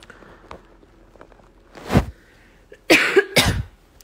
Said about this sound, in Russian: Какой ужасный кашель